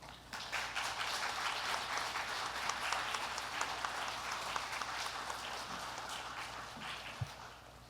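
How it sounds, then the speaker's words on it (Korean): Church congregation applauding to welcome a pastor to the pulpit at a Friday prayer service, a steady dense clapping that holds for several seconds before thinning slightly at the end, with no one speaking over it. "나오실 때 우리 박수로 환영하면서 말씀 듣겠습니다."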